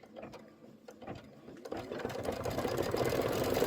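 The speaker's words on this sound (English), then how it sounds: "And this should be 5 minutes of stitching." Embroidery machine stitching a quilt block with a rapid mechanical whir and needle clatter that starts sparse and builds to a steady, busy run, close and alone.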